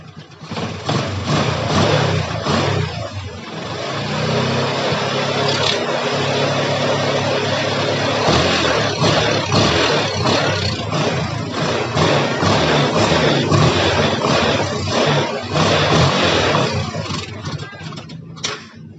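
A Yamaha Jupiter MX motorcycle engine runs steadily at close range with a loud, continuous mid-range drone and small fluctuations in speed, heard alone without talk.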